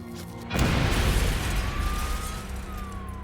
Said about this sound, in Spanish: La explosión hirió de gravedad al Dr. Epstein.